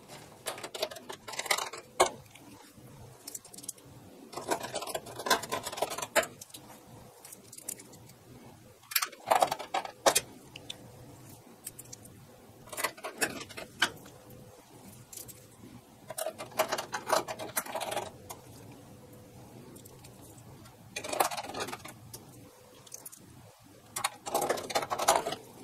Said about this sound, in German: So, jetzt sind alle Schrauben festgezogen.